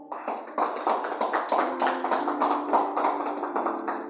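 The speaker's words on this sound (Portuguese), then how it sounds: "Palmas para Jesus, irmãos." A church congregation claps in a steady, rhythmic beat, many hands together and fairly close, sustained for several seconds with little talk.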